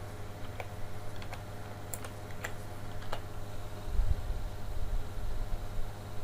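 Keys tapped on a computer keyboard during a proxy setup, a few faint scattered clicks spread out over a steady background hiss, quiet and unhurried with no talk.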